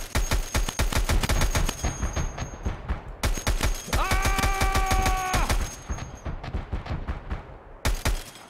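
Rapid automatic gunfire bursts from the video game Escape from Tarkov, loud and close, with dense repeated shots across most of the span, a short pause near the middle and a tonal game sound layered over one stretch.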